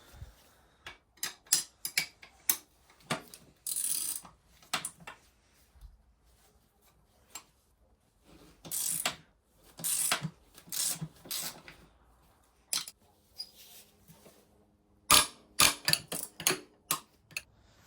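Wrench working on the cooked top end of a Honda CR125R motorcycle engine, a series of close, sharp metallic clicks and ticks in short irregular bursts separated by brief quiet gaps.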